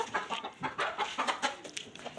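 Five hens and a rooster cluck close by in short, quick bursts, a busy chorus of hen calls with no talking.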